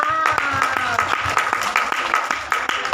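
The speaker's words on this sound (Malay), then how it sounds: "Okey, tepuk tangan." People clapping their hands together in a special education classroom, a quick steady run of claps close by, mixed with voices talking and calling out over them.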